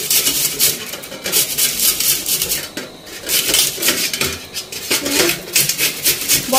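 Boiled potato rubbed against a metal grater in a home kitchen, a steady run of scraping rasps with bright metallic edges, fairly close and continuous with brief pauses.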